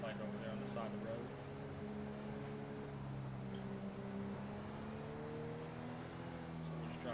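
A police Charger in GTA 5 roleplay cruises along with a steady engine drone and shifting tones, with someone talking over the top the whole time.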